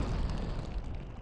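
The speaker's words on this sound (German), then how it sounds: "Warum sind wir jetzt explodiert?" A bomb detonating in a bomb-defusal video game, one short heavy boom with a rumbling low-end burst that fills the brief moment, no voices over it.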